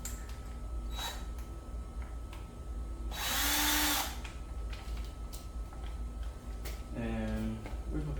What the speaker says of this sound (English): I'm gonna pre-drill my hole to make it a lot easier.